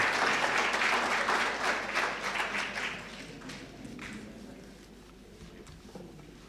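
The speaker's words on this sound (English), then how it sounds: "Can you clap hands as he's coming to the podium?" An audience at the official opening and renaming ceremony of the Ibhayi building claps as a speaker walks to the podium. The applause is full and lively at first, then gradually thins and fades away.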